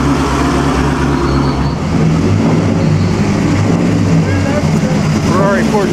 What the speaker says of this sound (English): He just opened the hood and look at this tiny engine and all this noise.